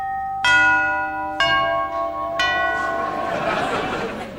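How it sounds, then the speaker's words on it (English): A doorbell on a 1992 BBC television show set chimes three times in clear, ringing tones about a second apart, each note lingering before the next, followed by a rush of noise. "The doorbell's not meant to ring there."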